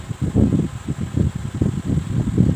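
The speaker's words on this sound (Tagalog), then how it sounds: "Sorry pala guys kasi maingay electric fan." A noisy electric fan runs close by, giving a steady, whooshing hum with a rapid fluttering pulse, alone with no talk.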